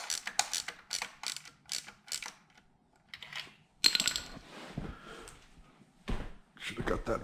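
A torque wrench clicks and ratchets in a series of short metallic bursts up close during a Ducati V4 dry clutch install, with a person talking between the clicks.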